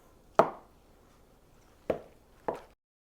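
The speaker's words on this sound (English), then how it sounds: "So I'm going to cut this into slices." Three firm knife strokes cut through a block of Red Leicester cheese into thick slices, each a short dull thud against a board, spaced apart with quiet between them.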